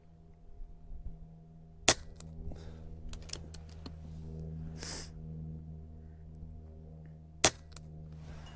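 Benjamin Cayden airgun on an outdoor range fires two sharp, loud cracks several seconds apart, over a low steady background rumble with scattered faint clicks and rustles.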